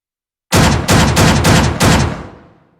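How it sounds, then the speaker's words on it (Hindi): A semi-automatic shotgun fires five loud, close blasts in quick, even succession, and the last shot rings out into a fading tail. "ये खुद ब खुद सेमी ऑटोमेटिक मोड में फायर करेगी।"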